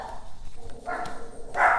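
A few muffled dog barks from somewhat far off, irregular and brief, with a louder bark at the end.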